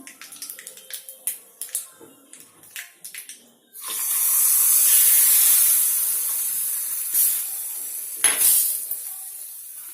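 Cumin and mustard seeds hit hot frying oil with a few sharp crackles and pops, then a loud, sustained sizzling hiss takes over and fades slightly, with another burst of spitting near the end.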